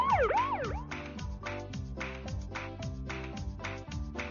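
A cartoon fire truck siren wails in quick rising and falling sweeps, then gives way to a repeating electronic rhythmic pattern that continues steadily.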